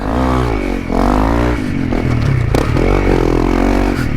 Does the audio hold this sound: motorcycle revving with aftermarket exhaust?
yes